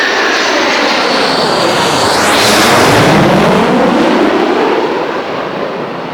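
An RNZAF Boeing 727 roars loudly and close at an air display, its engine noise building as it passes overhead with a sweeping pitch shift, then easing slightly as it moves away.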